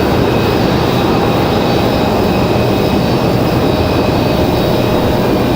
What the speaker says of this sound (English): Nice smooth arrival for the Delta.